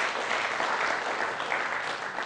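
Audience applause on a quiz show, a dense, steady burst of many hands clapping at close range, with no talking over it.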